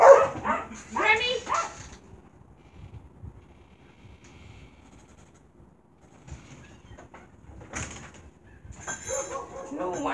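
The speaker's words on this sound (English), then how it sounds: "The people next door got the German Shepherd up by the fence, stirring up the dogs." Several dogs bark in bursts, stirred up by a neighbour's German Shepherd at the fence, loud at first, then a quiet gap before more barking and a voice near the end.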